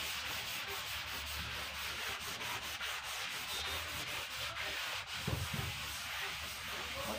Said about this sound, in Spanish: Le damos una lijadita, nada más para quitarle los grumos